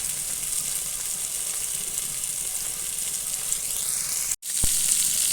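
Fish fries in oil in a non-stick pan, a steady close sizzle running throughout, broken near the end by a brief dropout and a soft knock, with no talking.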